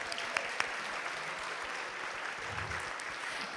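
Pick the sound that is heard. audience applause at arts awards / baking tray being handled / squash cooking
audience applause at arts awards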